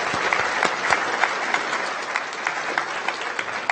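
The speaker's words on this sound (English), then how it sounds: "let's give everybody at 25 years one more big round of applause" Audience applause at a county board of supervisors meeting for 25-year service honorees, steady clapping with individual sharp claps standing out near the microphone and a light crowd murmur.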